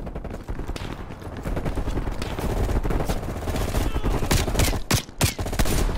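SMG gunfire in Call of Duty Cold War campaign gameplay rattles in sustained rapid bursts amid other battle noise, loud and dense, with a few sharp breaks near the end.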